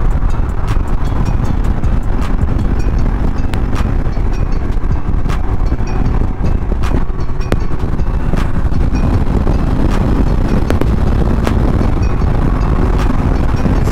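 A 2021 Harley-Davidson Heritage Classic motorcycle at full throttle gives a steady, loud engine roar mixed with heavy wind buffeting that lasts throughout, with no talking.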